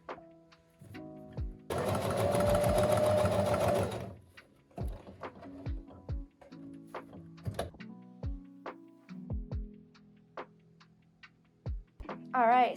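A sewing machine stitches in a loud steady burst lasting about two seconds, then falls to scattered ticks, thunks and brief mechanical whirs as it is handled, close up, with no one talking.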